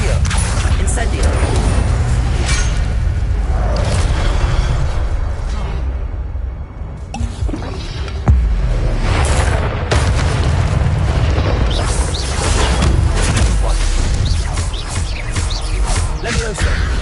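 Spell effects from a Harry Potter video game, with Incendio, Protego and Accio casts: continuous loud booming blasts and magical bursts, dense and layered, with voices calling out spell names over the din.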